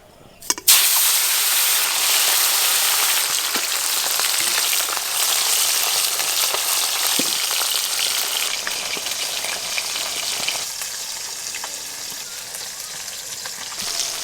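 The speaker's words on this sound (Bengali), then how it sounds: "আগে যে গোটা গোটা মাছগুলো আছে এইগুলো ভেজে নেব" Whole fish frying in hot oil make a loud, dense, steady sizzle and crackle that starts abruptly after a brief bump and continues throughout, close up, with a few faint knocks.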